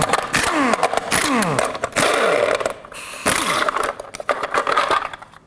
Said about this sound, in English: a 22mm socket, let's remove all these caps that hold on the center cap for your lug nuts